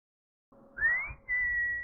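A person whistles two short, clear notes close by, the first rising and the second holding steady at a similar pitch, loud against otherwise near silence.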